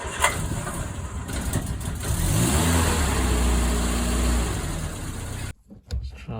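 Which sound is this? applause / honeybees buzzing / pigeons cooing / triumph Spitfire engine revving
triumph Spitfire engine revving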